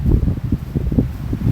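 Strong gusting wind of around 50, a loud low buffeting roar battering the microphone in uneven rushes across a short stretch.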